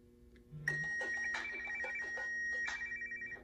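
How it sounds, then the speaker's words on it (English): A smartwatch's find-phone feature sets a phone playing a repeating electronic chime, bright ringing tones in a few bursts, near and moderately loud, with no talking. "you click that little app there, and it will play this little chime right there"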